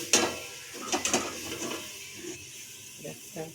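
A few sharp metallic clinks and knocks, like a lid set on a pot while fenugreek greens cook, sound close and fairly quiet, spaced out over a soft background hiss.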